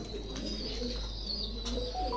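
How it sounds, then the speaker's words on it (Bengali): Pigeons in a loft give soft, continuous low cooing, with faint chirps and steady background noise throughout. "মাশাআল্লাহ অনেক কবুতরই আছে"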